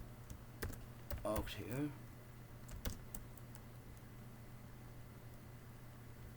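Keys clack on a computer keyboard as code is typed for a C++ tutorial: a short burst of taps under a speaking voice, followed by quieter scattered keystrokes over a low steady hum.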